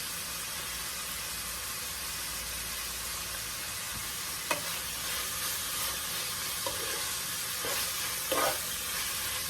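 Steady loud sizzling of cabbage frying in a pan, with a few soft scrapes and clinks of stirring near the end, no voices.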